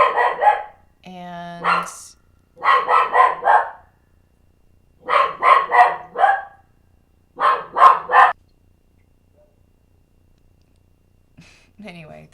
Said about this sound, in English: there's some neighbor dogs that my dog's barking at